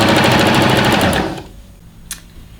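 A sewing machine stitches fabric in a fast, steady mechanical chatter for over a second, then stops, leaving quiet room tone with a small click.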